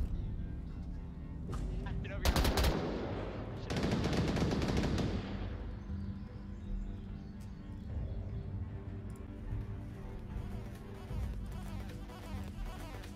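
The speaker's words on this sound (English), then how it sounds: "Puts his gun down, misses the shots onto CJ" Video game gunfire in a scrim match: a couple of loud, rapid bursts with sharp shots scattered through the rest, heard under a caster's continuous commentary.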